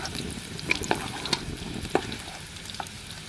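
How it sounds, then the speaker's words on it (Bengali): Cumin seeds and bay leaf fry in hot oil in a home kitchen, a soft continuous sizzle with several sharp clicks and scrapes from stirring in the pan, close by, with no talking. "এই তেলের মধ্যে জিরে দিয়ে দিলাম ফোড়নে, তেজপাতা,"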